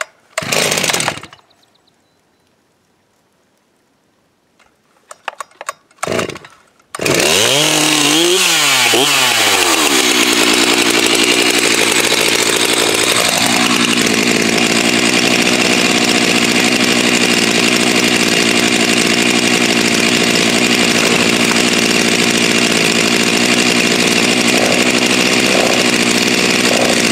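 Stihl MS310 project chainsaw: a few quick pull-starter rips and sputters, then the two-stroke engine catches, revs up and settles into a loud, steady near-field run that continues to the end, with no talking.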